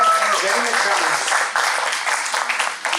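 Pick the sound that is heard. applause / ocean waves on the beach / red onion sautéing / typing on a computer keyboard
applause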